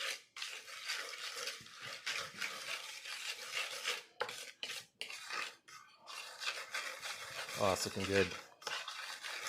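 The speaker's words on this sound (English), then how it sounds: "we're just gonna go and mix this up" A spice mixture for blackened halibut is stirred and scraped in a bowl, brisk irregular rubbing and clinking of a utensil, close, with a brief remark spoken near the end.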